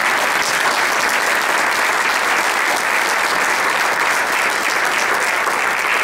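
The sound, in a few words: audience applause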